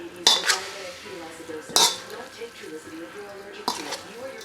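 Pasta dough ingredients are stirred in a bowl, giving three sharp utensil knocks against the bowl between softer scraping sounds, close and fairly loud, with faint talk underneath.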